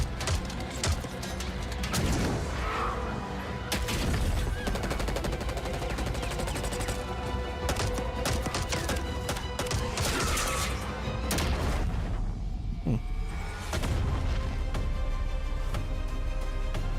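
Pistol gunfire in a Call of Duty Black Ops campaign, with repeated loud shots over a dense game mix of explosions and effects, plus a voice talking under the action.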